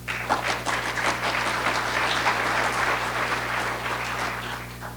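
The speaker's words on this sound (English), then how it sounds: "Give him a big round of applause." Conference audience at a water-policy panel applauding a panelist, a full, sustained round of clapping in a room with a low electrical hum beneath, steady and fairly loud throughout.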